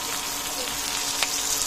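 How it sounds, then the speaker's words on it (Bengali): A belly piece of fish fries in oil for lunch, giving a close, continuous crackling sizzle with a few brief sharper pops before it cuts off abruptly. "দুপুরে খাওয়ার জন্য আর কি ভাজা হইতেছে।"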